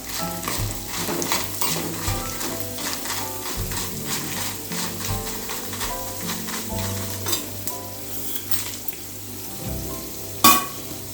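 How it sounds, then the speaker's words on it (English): Black gram lentils saute in hot oil for an Andhra-style tempering, a close, continuous sizzle broken by regular scraping strokes of a spoon stirring through the pan. "Next, 1 tablespoon of black gram lentils. Saute for a while."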